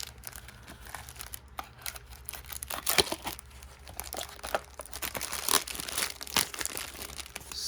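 Packing tape is torn and crinkled while a Beyblade box is opened, with a steady run of close, scratchy rips and crackles building toward louder tears and no talking.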